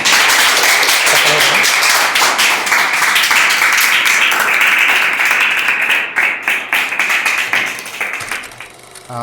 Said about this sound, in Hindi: एक बार तालियां मार दीजिए आप लोग।